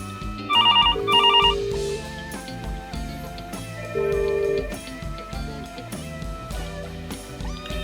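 A phone on a Mitel MiVoice Business system rings after a number is dialed, with loud repeated electronic ring bursts followed by a sustained tone, set against a busy tonal background.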